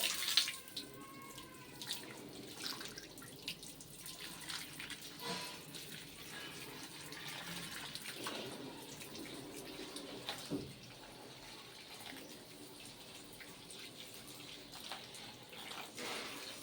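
Tap water running while plants on a home balcony are watered in summer: a faint, steady trickle and splash with small bumps and clatter nearby, quiet and without talk.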